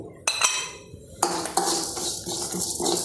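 A metal pan clinks and scrapes as fenugreek seeds and mustard are dry-heated without oil for a prawn pickle spice paste, giving a few sharp close clatters over a steady sizzle.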